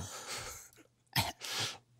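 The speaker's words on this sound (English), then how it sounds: "I'm going to cough" A single sharp cough bursts out alone in a quiet room, preceded by soft breathing and followed by a longer breathy exhale, close to the microphone.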